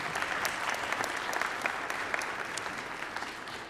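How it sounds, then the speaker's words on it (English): Audience applauding the teachers at the closing concert of a low-voice choral festival, a steady dense clapping that holds evenly for the whole stretch with no talk over it. "we should give them a round of applause"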